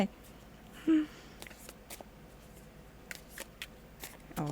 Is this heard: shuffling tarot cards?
yes